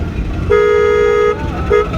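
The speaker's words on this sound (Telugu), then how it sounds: "ఇప్పుడు హార్న్ కొట్టండి" A car horn sounds during a first-day driving lesson: one loud, steady honk held for nearly a second, then a second short toot, over a low running engine.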